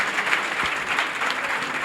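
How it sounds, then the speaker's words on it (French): A hall audience applauds honoured mathematics students at an awards ceremony, dense steady clapping from many hands sustained evenly throughout with no voices over it. "je demanderai à l'assistance de vous accorder un banc d'applaudissements"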